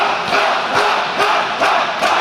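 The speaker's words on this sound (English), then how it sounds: "They're chanting bah, bah, bah." A wrestling crowd at an IWC Boiling Point indie show chants a repeated syllable in a loud, steady rhythm, the mass of voices swelling in regular beats with no single talker standing out.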